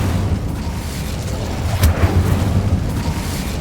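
A fiery Incendio spell bursts with a deep rumbling boom in the Hogwarts Legacy video game, a loud, sustained roar of flame flaring briefly at its peak, with no voices.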